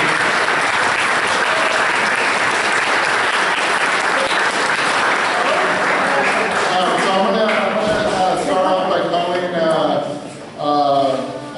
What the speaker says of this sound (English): we have a round of applause to all of our coaches for all that time